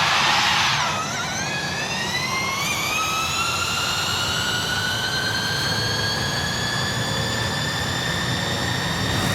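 A car engine in Forza Horizon 5, which the game names as a Mustang, revs up from idle into a rising whine and settles into a sustained high drone with whistling tones, loud and continuous with no talking.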